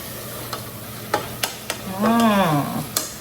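Vegetables cook in a pan for a spaghetti sauce, with a soft steady sizzle, a few sharp utensil clacks against the pan, and a brief scraping, squeaky stir in the middle.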